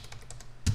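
Computer keyboard keys pressed while entering a value in Mastercam 2024 CNC programming software, a few soft close clicks followed by a louder keystroke for Enter near the end.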